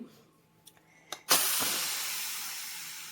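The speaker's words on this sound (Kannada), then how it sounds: "ಕುಕ್ಕರ್ನ ಬಿಚ್ಚಿತು" A few quiet clicks, then a sudden loud rush of hissing steam from a pressure cooker that slowly fades while still going strong.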